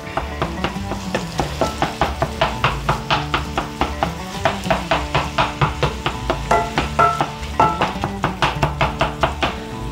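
Ground hamburger meat cooking in a pan for hamburger gravy, giving a steady sizzle with repeated sharp scraping and stirring clicks in a regular rhythm, close and fairly loud, no talking.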